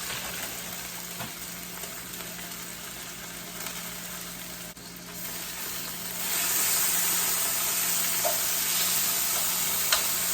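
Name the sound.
sausage sizzling while frying in a pan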